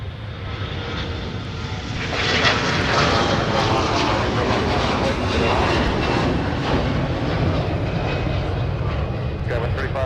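A SkyWest airliner takes off from runway 30 left at Minneapolis–St. Paul airport, its engines a loud, broad jet roar that swells after a couple of seconds and holds steady throughout.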